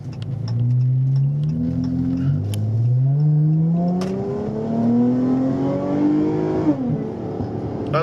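Supercharged Buick Park Avenue Ultra engine revving repeatedly, with rising and falling pitch sweeps as the throttle climbs and drops, loud and close with no talk.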